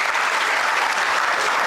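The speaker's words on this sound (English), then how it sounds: "Please put your hands together for him." Conference audience at a summit session claps for an introduced speaker, a dense, steady round of applause throughout with no voices over it.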